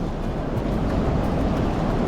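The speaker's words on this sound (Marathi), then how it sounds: "फक्त समुद्र समुद्राचा तो नाद" A continuous, even roar of sea waves on the beach at Ganeshgule, close and loud, with some wind noise and no talking.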